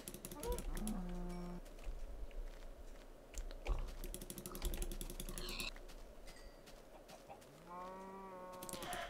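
Blocky cows lowing in Minecraft, several drawn-out moos rising and falling over a busy bed of game effects and clicks, fairly close and loud.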